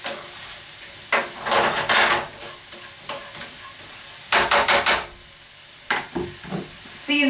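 Baby portobello mushrooms sizzle in a pan under steady frying hiss, broken by several bursts of stirring and scraping, close and fairly loud.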